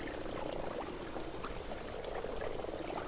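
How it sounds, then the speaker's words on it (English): Crickets or similar insects chirp in a Carboniferous swamp inside a video game, a dense continuous high trilling with faint low pulsing calls beneath, steady and enveloping. "I can hear crickets or something."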